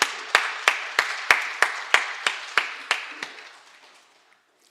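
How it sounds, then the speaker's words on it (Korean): A church congregation claps in unison to welcome visiting guests during Sunday worship, about a dozen sharp, evenly spaced claps that ring out in the hall and fade to quiet. "따뜻한 박수 보내겠습니다."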